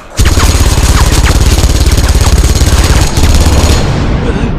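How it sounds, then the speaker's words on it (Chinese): Rapid bursts of automatic gunfire from a battle scene in a Chinese action film about Taoist exorcists, loud and nearly continuous, with only a brief gap near the end. "交替开火懂吗"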